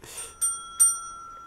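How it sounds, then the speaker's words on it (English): A small bicycle-style bell is rung twice in quick succession, each bright ding leaving a long, clear ringing tail, close and alone. "Now, Sid, you got to ring the bell now."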